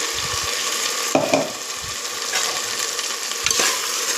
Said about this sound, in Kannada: ಈಗ ಇದಕ್ಕೆ ನಾವು ರುಬ್ಬಿಟ್ಕೊಂಡಿದ್ವಲ್ಲ ಪೇಸ್ಟು ಅದನ್ನು ಸೇರಿಸ್ಕೊತಾ ಇದ್ದೀನಿ